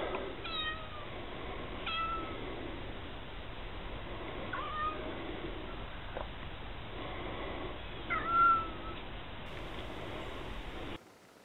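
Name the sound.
cat meowing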